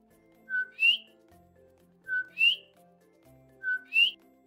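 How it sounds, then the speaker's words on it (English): A two-note chirping call, a short low note rising into a higher one, repeated three times at even intervals against a quiet background. "the sound of the coquí frog"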